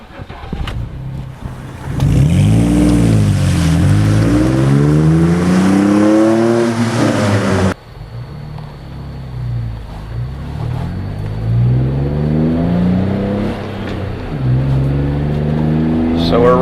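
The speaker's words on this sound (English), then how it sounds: "So we're running it up into the higher RPMs. I'm shifting at about 4 grand or so." A 2007–2018 Jeep Wrangler JK with an MRT JK2 cat-back exhaust revs loud and close, climbing through the gears with rising engine pitch that drops at each shift near 4,000 RPM, and a voice talks over parts of it.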